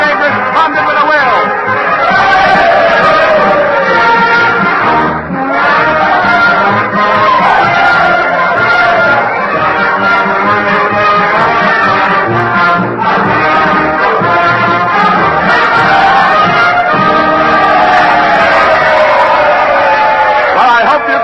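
Dense crowd din fills a theatre during a staged radio drama about Lincoln's assassination, a continuous loud babble of many voices with a band playing Dixie faintly underneath.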